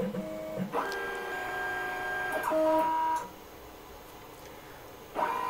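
A LinuxCNC-controlled machine run from a Raspberry Pi performing its homing routine: stepper motors whine in steady pitched tones that shift as each axis moves, with soft clicks between moves, fairly quiet and close.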